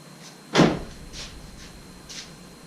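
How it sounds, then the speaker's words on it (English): Car door of a 2007 Volkswagen Jetta shut with one firm close thump, followed by a few fainter clicks and knocks at close range, no voices. "I'm going to close the door now"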